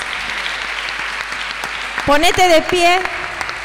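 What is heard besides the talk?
applause for the King of Kings in a church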